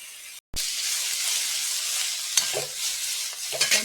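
Vinegar hitting a hot pan for Jamaican escovitch barracuda: after a brief cut, a sudden sharp sizzle rises and holds steady, with a few clinks and stirring scrapes near the end.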